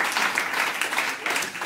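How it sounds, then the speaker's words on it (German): Brief, fairly quiet applause from a live audience, a steady wash of many hands clapping together for under two seconds. "Das ist ein Applaus wert auf jeden Fall."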